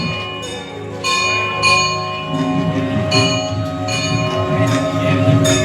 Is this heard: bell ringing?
yes